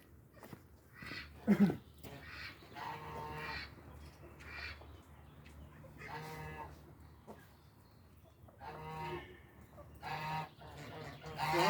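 Geese honk repeatedly in loud nasal bursts while being fed, several calls spread across the clip, with other farm fowl murmuring in the background.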